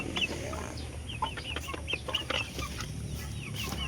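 Chickens cluck and chatter in a new farm area, several birds giving short repeated calls over a low steady background hum, moderately near and fairly faint.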